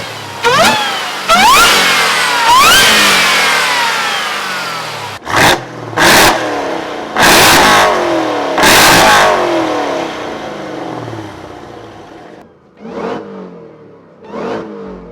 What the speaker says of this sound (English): this is what a decatted 900 horsepower Trackhawk sounds like